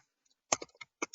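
Quick clacking keystrokes on a new computer keyboard, a short irregular burst of several crisp close clicks with brief gaps between them.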